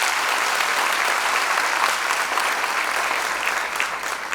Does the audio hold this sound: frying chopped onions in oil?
no